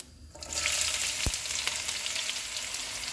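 Onions dropped into hot oil with mustard seeds and whole spices, bursting into a loud, sudden sizzle that holds as a steady close crackle with light stirring.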